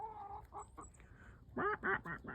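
Backyard chickens cluck and squawk close by in short bursts, a brief run of hen calls with no talking.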